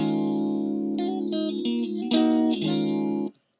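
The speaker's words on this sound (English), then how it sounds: "Once you're done with the hammer down and pull off" A sustained electric guitar line with smooth legato note changes, hammered and pulled notes blending under effects, ending abruptly.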